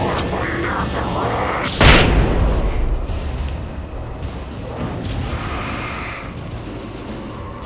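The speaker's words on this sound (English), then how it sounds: "I got flashbang." A flashbang grenade in the Alan Wake video game goes off with a single loud, sharp blast near the start, then rumbling game noise and effects carry on afterward.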